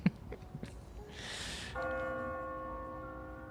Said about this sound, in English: The church bell rings.